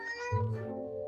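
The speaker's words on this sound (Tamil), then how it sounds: "ஒரு பூனை சத்தம் கேட்டது அது கண்டிப்பாக ஒரு பூனை" A single cat gives one clear, fairly close meow that rises and then falls away, heard alone in a quiet room.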